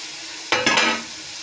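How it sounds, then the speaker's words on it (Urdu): Chicken meat fries in a pot, letting out a sudden burst of sizzling with a couple of quick stirring swishes that die back down to a low background hiss. "یہ اچھے طریقے سے فرائی ہو گیا ہے"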